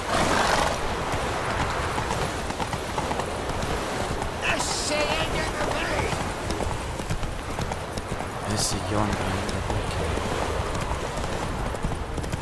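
Roach, Geralt's horse in The Witcher 3, gallops with a fast, steady clip-clop of hooves and neighs briefly, set against a dense wash of outdoor game ambience.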